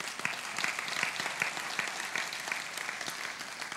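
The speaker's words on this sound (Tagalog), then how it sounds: "Sige nga, pumalakpak tayo." Church congregation clapping, fairly faint and a little distant, with scattered individual claps standing out from the softer steady patter.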